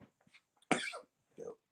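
A single sharp cough from someone in the background behind a phone-call speaker, with a couple of faint throat sounds and murmurs around it.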